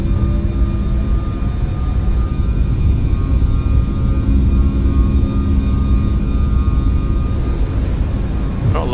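Boeing 737 MAX jet engines spool up for takeoff in a flight simulator, a loud, continuous roar with a steady high whine layered on top and no voices over it.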